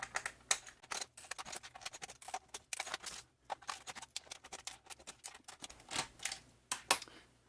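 Screws are worked loose and pulled from a Compaq RT235BTW keyboard, giving quiet, close, irregular clicks and small plastic taps in scattered clusters, with no talking.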